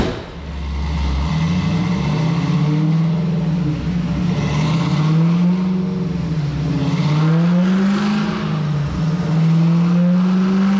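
A 900 hp 1968 Camaro with a Magnuson 2650 supercharger and Holley Dominator fuel system runs on a chassis dyno, its engine roaring loud and steady as revs rise and fall in waves over ten seconds.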